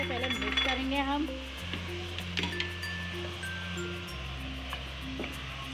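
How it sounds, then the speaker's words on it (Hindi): Boiled chicken and other ingredients stirred together in a pan on the stove, with light clinks of a utensil against the pan and a faint sizzle, with musical tones and beeps over the top. "ये इनको सब अच्छे से मिक्स करेंगे हम।"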